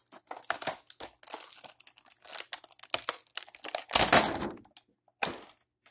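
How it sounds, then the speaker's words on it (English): Crinkly outer plastic wrapping is pulled off a toy food playset box in close, bursty crackles, with a louder sustained crunch midway and a final short rustle. "I'll take the outer plastic off."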